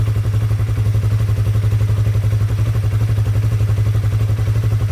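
A Honda CB150R motorcycle engine runs during a battery charging check, a steady, loud, close idle thrum with an even pulsing beat and no clear rise in revs.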